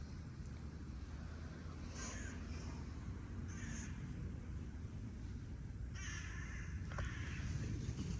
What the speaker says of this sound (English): Oh, I heard a jackdaw. That's the sound of a jackdaw.